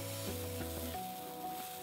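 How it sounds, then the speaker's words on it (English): Cheese sizzles in a dry ceramic frying pan with no oil, a steady close hiss that runs unbroken for under two seconds with no voices over it. "We're burning this piece of cheese, but it's not sticking at all."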